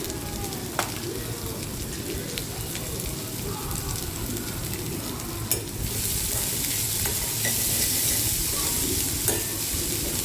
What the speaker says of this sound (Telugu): ఉల్లిగడ్డ కొంచెం వేగానండి.